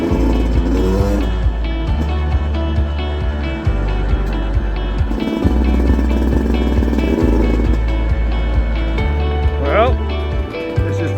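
A small motorbike ride in Colombia, with a steady engine drone rising and falling through gear shifts and wind noise, close to the rider, while people talk over it.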